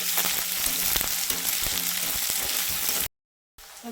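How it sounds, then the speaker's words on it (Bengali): Finely chopped onions fry in a hot pan, a loud dense sizzle with faint stirring knocks, cutting off abruptly into silence before a brief return at the end. "দিয়ে দিলাম পেঁয়াজটা একটু ভালো মতো ভেজে নিতে লাগে"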